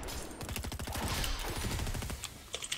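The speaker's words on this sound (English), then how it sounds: "I'm gonna fling a rocket at him." A rocket launched in the video game Fortnite amid a rapid, crackling burst of weapon fire and mechanical clatter, moderately loud and continuous for a few seconds.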